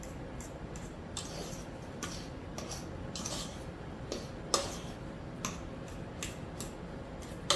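Potatoes being mashed with butter in a pot, a run of sharp metallic clicks and taps from the masher striking the pan at an irregular rhythm, close and moderately loud over a soft background hiss.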